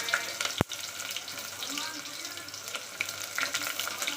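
Onion frying in a pan with curry leaves and coriander for chicken masala, a soft steady sizzle with a sharp clank near the start, close and fairly faint.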